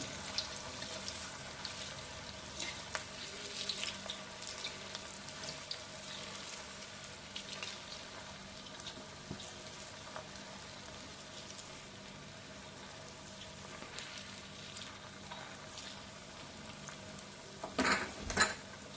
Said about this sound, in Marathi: तर आता तेल गरम झालंय आपण बॉल्स तळायला सुरुवात करू